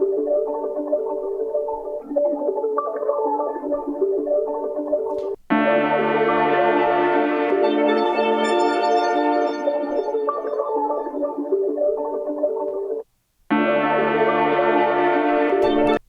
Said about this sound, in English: the next one is this kalimba, which I actually did record with an actual kalimba